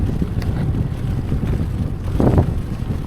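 Wind buffeting a microphone during an outdoor bike ride livestream, a steady low rumble throughout with a stronger gust near the end, no speech.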